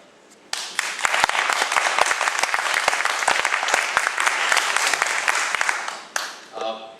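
A crowd at a county commission meeting bursts into loud, sustained applause, dense clapping filling the room for several seconds before it cuts off abruptly.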